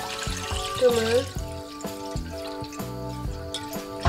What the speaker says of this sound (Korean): 자, 물 부어주세요.